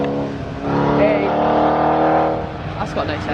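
The engine of a classic car at an outdoor show at Thirlestane Castle runs steadily with a throaty, harmonic hum. It swells briefly as if revving, with people talking nearby.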